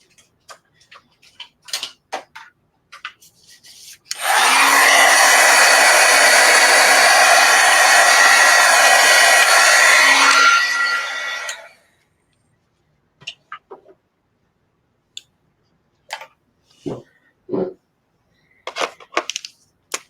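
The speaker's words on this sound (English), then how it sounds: "let me just go real quick with the heat gun" A heat gun blasts hot air over layered paint shades in a steady loud rush lasting about seven seconds, with scattered taps and handling noises before and after.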